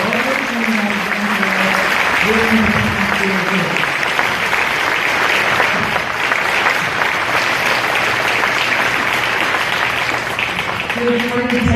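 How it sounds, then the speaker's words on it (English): A senior night crowd gives a round of applause for the senior athletes, with dense, steady clapping throughout and a voice speaking briefly at the start and again near the end. "Let's give one more round of applause to these wonderful athletes and girls."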